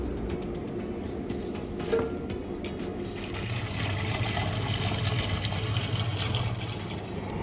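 Water runs steadily from a tap, splashing and trickling as cold water rinses bones for wonton stock, close by and constant.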